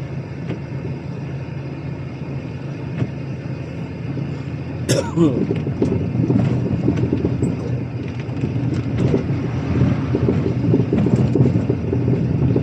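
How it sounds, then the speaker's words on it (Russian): A heavy tractor passes along a village road in Belarus after a thunderstorm, its low engine rumble building from a quiet start and staying steady as it draws near, with a short sharp sound partway through. "Суровый трактор появился."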